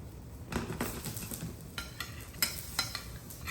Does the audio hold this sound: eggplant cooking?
yes